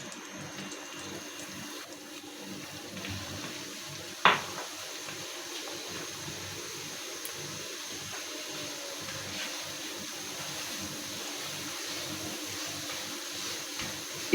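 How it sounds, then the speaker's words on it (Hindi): Semolina roasting in ghee over a slow flame gives a faint, steady low sizzle with soft scraping of stirring, plus one sharp metallic clink of a spoon against the pan. "अब सूजी को घी में डालकर भुनेंगे।"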